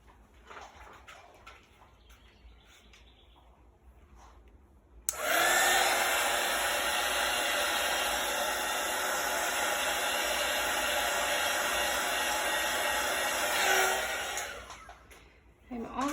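A heat tool switches on abruptly and blows a loud, steady rushing stream of hot air over acrylic pour paint for about nine seconds, then cuts off, with quieter room sound before and after.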